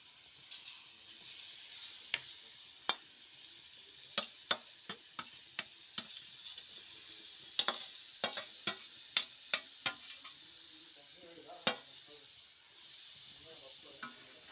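Mushroom curry frying and sizzling in a pan while being stirred, a steady hiss broken by repeated sharp scraping clicks of a spoon against the pan, close and moderately loud, with no talking.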